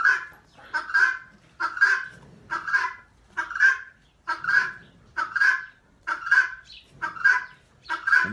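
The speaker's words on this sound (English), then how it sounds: "In case you guys don't know what a guinea hen sounds like." Guinea hen calling on a farm, a loud, harsh, repeated two-part squawk in an even rhythm of roughly one call per second, close by with no talking.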